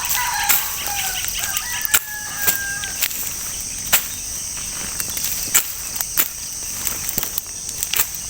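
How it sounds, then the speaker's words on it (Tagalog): Chickens forage in a cut grass field while wings flap in several brief bursts and a rooster crows nearby, with steady insect chirring underneath throughout. "Yung sunod-sunod na yung mga manok sa akin."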